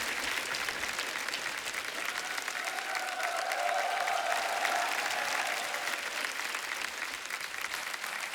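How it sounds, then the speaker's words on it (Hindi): A studio audience at a comedy talk show breaks into loud, sustained applause, a dense steady roar of many hands clapping throughout, with faint music underneath. "जोरदार तालियां हो जाएगा।"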